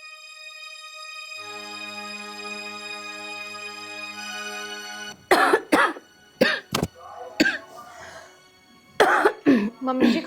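Several harsh coughs come close together in short bursts after a sustained tonal drone fades, with a pause between two coughing fits.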